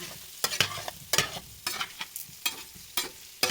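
Potatoes being stirred with paprika powder and ground black pepper in a pan, a series of scraping, clattering stirs repeating roughly every half second over a faint sizzle, close and fairly quiet.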